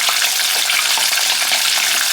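Chicken thighs frying in hot oil in a pan, a loud, steady, close crackling sizzle with no talk.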